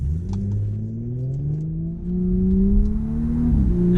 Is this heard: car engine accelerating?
yes